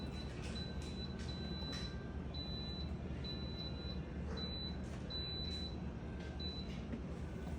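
An electric stand mixer beats cream cheese pound cake batter, giving a steady, dense mechanical whir that runs unbroken and close, with intermittent high beeping tones on top and no talking.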